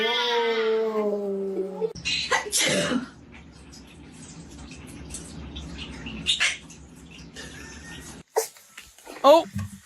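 A dog's sharp, explosive sneeze bursts out close by, with a couple of snorty huffs, while a person talks in a high, cooing voice around it.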